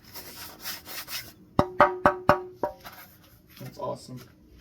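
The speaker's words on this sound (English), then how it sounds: "The base has that brittle plastic sound to it." Hands handle and knock the brittle plastic base of a Comfort Edge 12-inch desk fan, giving a run of about five sharp, hollow taps in quick succession, with scraping before and after.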